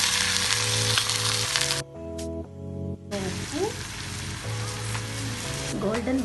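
Onions frying in oil in a pan while cooking a Telugu-style liver fry, a steady close sizzle broken by a short quieter gap, with a voice talking over it.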